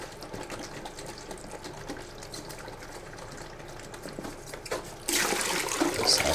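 Tap water running to rinse a film developing tank during home darkroom processing of Kentmere Pan 400 film: quiet handling sounds give way to a sudden steady gush of water near the end, close and fairly loud.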